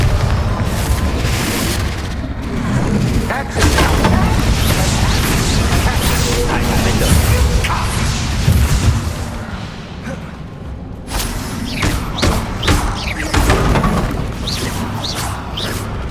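In the Hogwarts Legacy video game, a Confringo blasting spell explodes as a loud, dense boom with crashing debris that rolls on heavily, easing briefly before further impacts, with some talk mixed in.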